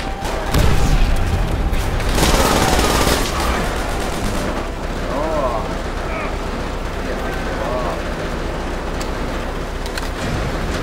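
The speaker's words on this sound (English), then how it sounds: "Oh, grenade!" Gunfire and a grenade explosion from the video game Call of Duty: World at War form a dense, loud barrage of shots and booms, with voices talking over the continuous battle din.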